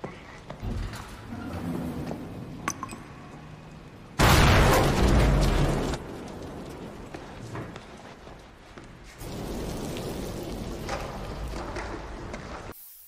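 A grenade goes off in a film scene set at a wedding party. The sudden, loud, close boom rumbles for about two seconds, with quieter scene noise before and after.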